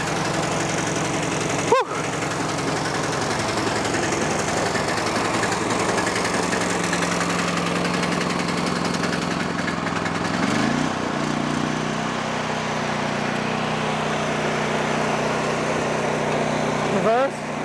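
An Ariens snow blower with a supercharged Hemi 420cc engine runs steadily up close, a loud continuous drone that shifts pitch partway through, with a short exhale from a person near the start.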